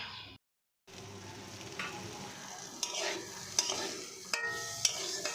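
Potatoes frying in a pan in a home kitchen, a quiet continuous sizzle with stirring scrapes and a few sharper clinks of a utensil against the pan.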